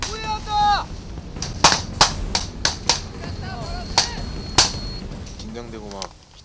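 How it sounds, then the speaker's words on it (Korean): Sharp gunshots ring out during night combat training, a loud irregular string of cracks. A voice speaks briefly at the start and again near the end. "칠흑 같은 어둠을 찢는 총소리"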